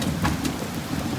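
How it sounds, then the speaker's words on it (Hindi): Steady rain falls on a farm during a thunderstorm, a dense continuous hiss with a low rumble underneath, loud and close. "बारिश हो गई है हमारे पास"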